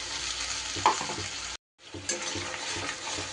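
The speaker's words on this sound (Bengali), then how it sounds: "মশলা কিন্তু বেশ সুন্দর করে এবার কষিয়ে নিতে হবে।" Ground spice paste with a splash of water sizzling and being stirred in a pan for eggplant kofta curry, a steady close frying hiss with scraping stirs and a brief pause partway through.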